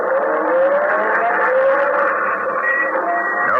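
An old-time radio drama effect of a car starting and driving: a thin, narrow-band engine drone with a slowly rising pitch, loud and continuous, with no voices.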